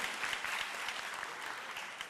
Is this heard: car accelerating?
no